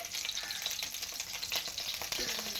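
Chicken seekh kebabs fry in a pan of shallow oil with a steady, close crackling sizzle and dense spitting throughout, plus a few soft utensil knocks.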